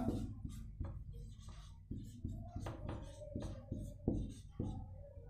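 A pen or chalk taps and scratches as someone writes out a compound-interest sum in a class 7 maths lesson. The strokes come in short irregular bursts, close and faint, with no talking.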